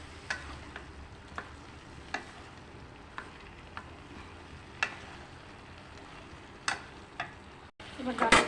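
A paste of ginger, cumin, green chilli and turmeric fries quietly in a pan under a low, steady hiss, broken by scattered light taps and clicks of a spoon against the pan.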